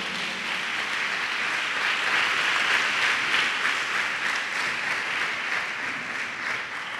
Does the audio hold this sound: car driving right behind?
no